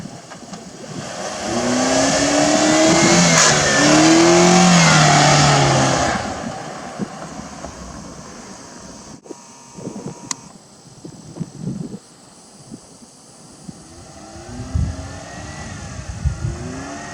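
A car doing a boosted launch, engine revving hard and accelerating loudly for about six seconds, then fading to quieter shop noises and clanks.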